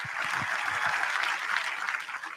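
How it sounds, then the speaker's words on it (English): A crowd at the Detroit Auto Show applauds during the seventh-generation Mustang reveal, a soft, steady patter of clapping heard from some distance for a couple of seconds. "Round of applause again"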